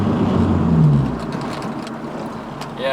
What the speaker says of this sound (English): As you guys can listen to the tone of the car